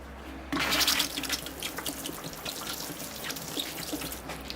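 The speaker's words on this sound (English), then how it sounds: "I'll give it another water." Water pours and trickles onto a bonsai tree and its moss-covered soil, a steady close splashing hiss that starts abruptly and continues evenly.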